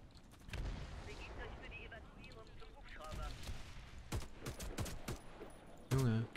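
Gunfire in the shooter game Warface, with scattered sharp shots and bursts through a busy in-game soundscape and a louder hit near the end, under voices.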